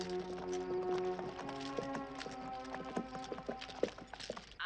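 Horse hooves clip-clop in Suffolk, a steady run of close knocks over a sustained tonal background of music or ambience.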